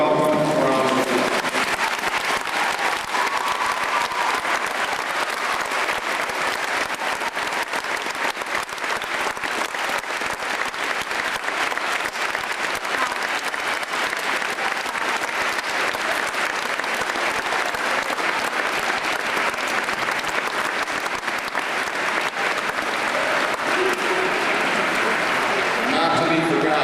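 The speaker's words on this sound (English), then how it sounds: "Let's give them a welcome round of applause." A graduation audience of parents and guardians gives a sustained round of applause, dense steady clapping that fills the hall from start to finish with crowd noise throughout.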